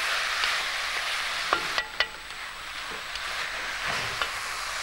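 Meat stirred and sautéed with onions and spices in a pan gives a steady close sizzle, broken by scattered clicks and scrapes of a utensil against the pan.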